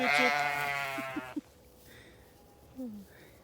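A sheep lets out a long, loud bleat nearby, followed by a short fainter bleat after a pause; no one speaks.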